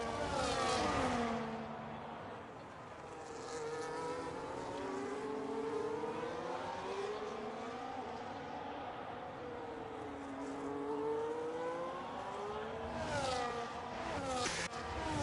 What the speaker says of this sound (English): Jay Weber still going out on another lap on those very, very worn hard tyres